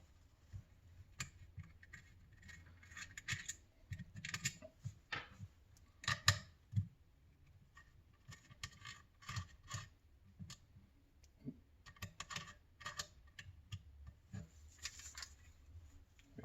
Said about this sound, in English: Next thing I'm going to do is remove the 3 flathead screws.